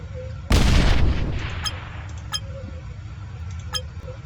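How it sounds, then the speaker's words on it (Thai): A single loud explosive blast from a nuclear bomb in the video game People Playground, a deep rumbling boom that slowly fades over several seconds, followed by a few sharp metallic clinks. "เราจะเป็นระเบิดนิวเคลียร์"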